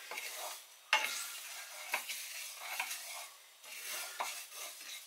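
Spices toasting in a dry pan are stirred with a utensil, making soft scraping swishes and a few sharper clinks against the metal over a light sizzle, close and without talk.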